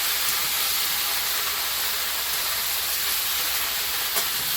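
Potato pieces for an okra dish frying in a pan, giving a steady, close sizzle and hiss that runs unbroken throughout, with no talking.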